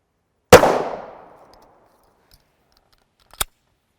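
A single loud, close 9x19mm pistol shot from a 4.5 inch barrel firing G9 Defense 80gr external hollow points, with a sharp crack and a long decaying tail, followed about three seconds later by a brief metallic click.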